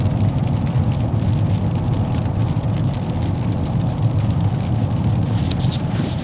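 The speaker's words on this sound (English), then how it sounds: "have a listen to the rain." Heavy rain falling outdoors, a loud, dense and steady rush of drops on surfaces with a deep low rumble running underneath throughout.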